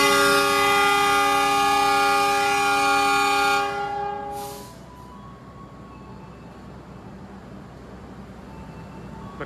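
A premium stainless-steel passenger train at a station about to depart sounds a long, loud multi-tone horn for several seconds, which cuts off and leaves a steady low idling rumble with faint station ambience.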